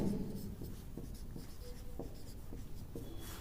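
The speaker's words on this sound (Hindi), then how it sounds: "देखिए एक हैशटैग नोट लिखते हैं" Chalk or marker writing a note on a classroom board during a lesson: quick scratchy strokes in an irregular rhythm, close and moderately quiet, with no talking.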